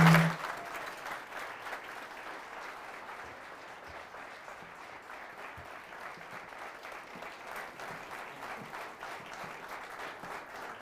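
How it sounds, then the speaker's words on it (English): A crowd at a Boone County judge-executive public debate gives sustained applause welcoming the candidates. The clapping is steady and full, holding at an even level for the whole stretch, with a brief louder burst at the start. "this is your time to clap and hoot and holler"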